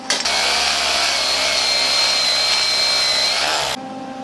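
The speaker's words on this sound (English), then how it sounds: "after we wire brush it, it should reveal the real weld." Wire brush scrubbing slag off a gasless flux core MIG weld, a steady, loud, continuous scratching that runs without pause for about three and a half seconds, then stops abruptly.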